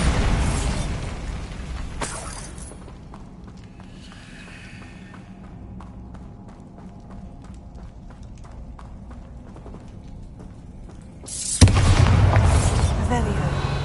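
A Bombarda spell in Hogwarts Legacy detonates with a loud booming burst at the start and another heavy blast near the end, with quieter rumbling and ticking game sounds between, and a voice speaking over it.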